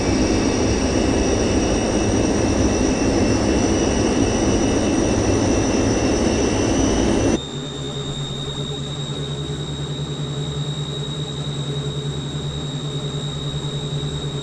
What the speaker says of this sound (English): Enjoy the sounds of the Fokker 27 and the Rolls-Royce Dart engines as we leave Vitoria for Santos Dumont